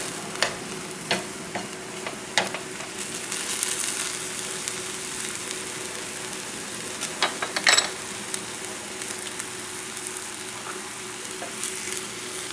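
A sausage and spinach filling sizzles steadily in a pan over a high flame, a constant frying hiss broken by small pops and occasional stirring scrapes.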